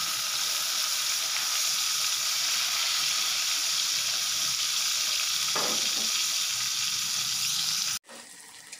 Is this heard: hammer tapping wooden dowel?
no